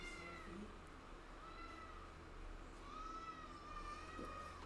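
A cat meows and whines with rising, wavering cries over steady background noise, close by and moderately loud, sounding a little like a parrot.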